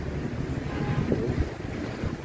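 Cold wind blowing across the microphone during a train journey from Korba to Agra, a steady broadband rush that fills the whole clip at a constant moderate level with no talking.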